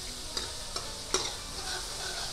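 Wet spices and tomatoes sizzle steadily in a pan during a home cooking tempering, with a few sharp spatters and stirring clicks over a continuous frying hiss.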